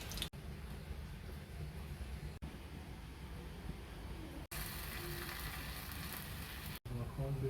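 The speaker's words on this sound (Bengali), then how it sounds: "কলিজা ভুনাটা এদিকে একটু কষিয়ে নিচ্ছি" Liver bhuna is sautéed in a pan, giving a dense, continuous frying sizzle that cuts out briefly three or four times, with no clear talking.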